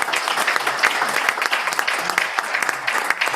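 A city council meeting audience gives a round of applause, dense close clapping from many people sustained throughout the few seconds.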